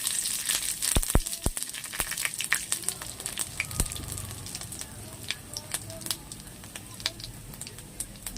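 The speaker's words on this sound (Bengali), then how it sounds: "তেলটা গরম হয়ে গেছে, দিয়ে দেবো শুকনো লঙ্কা আর পাঁচফোড়ন।" Dried red chillies and panch phoron crackle in hot oil, a dense run of sharp pops and spits over a steady sizzle that keeps going throughout, heard up close.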